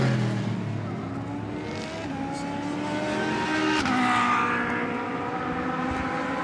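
A Ferrari GT race car on track during the Total 24 Hours of Spa endurance race sends out a loud, continuous engine howl, its pitch rising and falling as it passes close by.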